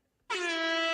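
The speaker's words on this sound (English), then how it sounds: "Play an air horn there, please." A single loud air horn blast played from a soundboard starts abruptly and holds steady to the end, brassy and buzzing.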